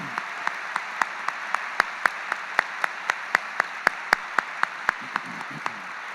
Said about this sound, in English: have a round of applause for the faculty and all that they do